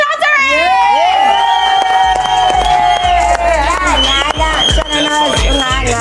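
A loud live audience at a comedy and variety show cheers, whistles and shouts continuously, with clapping throughout, a dense roar that stays strong to the end.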